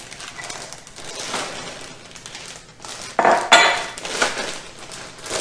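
Pecans sealed in a plastic baggie are crushed with a rolling pin, giving a series of close crunching, rustling knocks and clatters that rise and fall over a few seconds.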